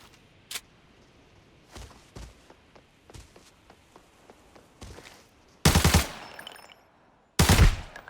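Bursts of automatic gunfire from a firefight in the shooter game Arena Breakout, with a few scattered single shots and faint taps early, then two loud, dense volleys close by near the end.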